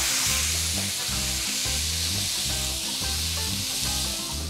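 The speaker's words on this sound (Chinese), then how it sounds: "咁就當佢輕輕喺個鍋度咧煎一煎佢先" Apples frying in a pan of brown sugar caramel give a steady, close sizzle and bubbling hiss throughout, with background music playing underneath.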